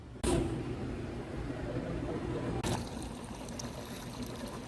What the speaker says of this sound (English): Do you guys have a way that I could just get hot water out of any of those machines?